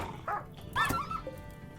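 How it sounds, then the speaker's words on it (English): Dogs bark in the RimWorld video game, a few sharp, close barks with a short yelp, over quiet background. "And AI sent in the doggos."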